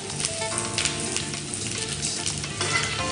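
Onion sizzles and crackles steadily as it fries in a pan, a close, dense hiss with small popping bursts and no talking.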